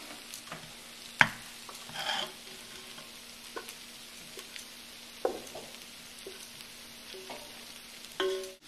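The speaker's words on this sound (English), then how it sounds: "Breaking up the clumps in the rice so that the grains become separate." Cooked rice is stirred in a lightly oiled pan for South Indian tomato rice, with a soft continuous sizzle under scattered spatula scrapes and taps as clumps are broken up, close and alone.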